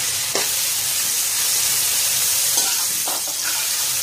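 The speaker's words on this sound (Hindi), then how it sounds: "इसको मैं 2 से 3 मिनट तक भूनूंगी" Chopped onions hit hot oil with cumin in a pan for a potato keema curry, giving a steady, close broadband sizzle with a few soft stirring scrapes throughout.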